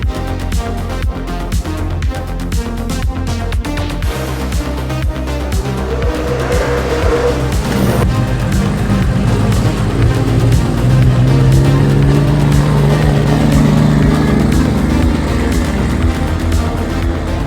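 A race car, a BMW E36 with a 2JZ engine swap, drives hard, its loud engine roaring and revving with tire squeal partway through, close up and continuous throughout.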